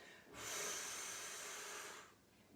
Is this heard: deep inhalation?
yes